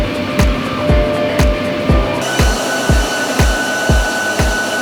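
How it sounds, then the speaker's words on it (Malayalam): A bale plucker machine runs in a yarn mill that processes yarn waste, giving a steady mechanical whir with a loud, regular thumping beat about twice a second, close and continuous. "തൊഴിലാളികൾ ബെയിൽ തുറന്ന് അവയെ ബെയിൽ പ്ലക്കർ മെഷീൻ ട്രാക്കിലേക്ക് നിരത്തുന്നു"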